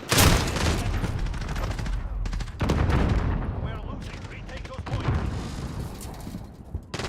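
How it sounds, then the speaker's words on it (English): Rapid MP5 submachine gun hip fire in a first-person video game, a loud sustained stream of gunshots in long bursts with brief gaps, with a voice talking over it. "The MP5 does wicked hip fire"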